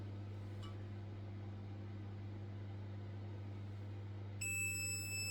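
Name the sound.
battery tester beep during car battery test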